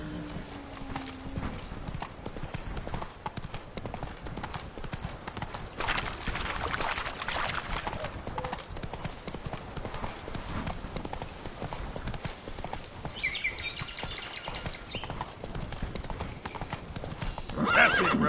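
Geralt's horse Roach galloping in The Witcher 3 Blood and Wine: a continuous rapid drumming of hoofbeats throughout, with a neigh or whinny and some background game sounds, no speech.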